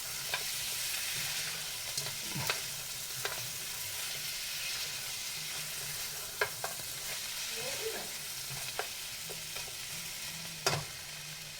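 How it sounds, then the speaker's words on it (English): Mutton chukka pepper fry with fresh cilantro is stirred in a pan over a soft continuous sizzle, with occasional spoon scrapes and clinks standing out, no voices. "we'll add some fresh cilantro into this and give it a good mix"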